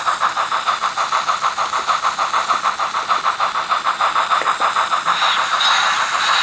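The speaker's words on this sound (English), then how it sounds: "It is the sound of freight cars going over rail joints." Model train sound module on a Mikado locomotive running on a rolling road, reproducing freight cars clicking over rail joints: a steady, fast rhythmic clatter with a hissy wash, loud and continuous throughout.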